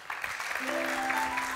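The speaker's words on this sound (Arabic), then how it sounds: "صفقوا عليهم" Audience applause at a live comedy show, a steady wash of clapping that fills the whole stretch at a fairly even level, with a sustained tone rising under it partway through.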